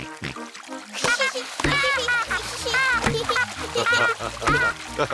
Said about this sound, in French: mais n'éclabousse pas autant. Les grands enfants n'éclaboussent pas.